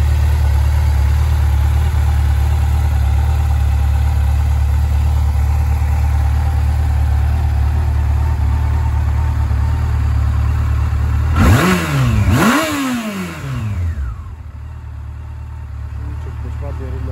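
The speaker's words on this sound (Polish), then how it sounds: "Silniczek dość ładnie, równo pracuje, kręci się bez najmniejszego problemu." A Yamaha FJR motorcycle engine idles steadily and evenly for a long stretch, then revs up twice in quick succession before the sound drops away.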